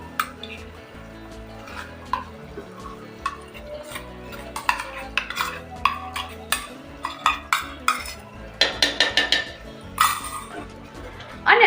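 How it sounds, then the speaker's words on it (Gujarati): Curd paste being stirred into a mixed vegetable curry in a pan, with a spoon scraping and clinking against the metal in an irregular rhythm that picks up to quick, loud strokes toward the end. "દહીં એડ કરીને આપણે દસ મિનિટ સુધી દહીંને આવી રીતે હલાવતા રહેવાનું છે"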